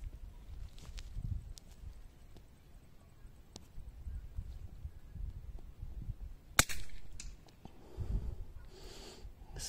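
A single sharp .22 LR rifle crack rings out outdoors amid quiet rustling and low wind noise, followed by faint movement.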